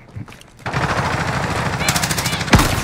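Rapid automatic gunfire in the video game Call of Duty Warzone, loud and continuous bursts of machine-gun fire that start abruptly after a quiet moment and end with a heavier impact.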